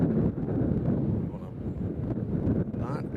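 Wind buffets a microphone outdoors at Nashville International Airport during planespotting, making a continuous low, rumbling roar that fills the whole stretch with a few stronger gusts.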